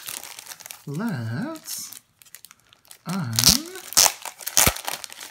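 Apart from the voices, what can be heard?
crinkling plastic wrap being unpacked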